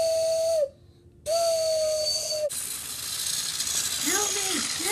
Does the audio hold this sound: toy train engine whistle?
yes